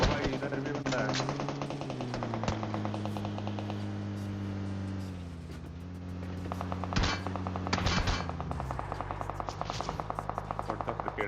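Automatic weapons fire in a PUBG match rattles in long rapid bursts over a droning vehicle engine, with gamers talking over the action.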